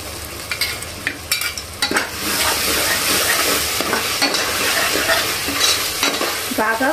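Garam masala paste frying in hot oil for a mutton curry, with a steady loud sizzle and repeated scraping stirs of a spoon against the pan, without any talking.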